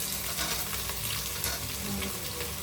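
Three finely chopped onions fry in a pan with curry leaves, producing a constant close sizzle over a low background hum.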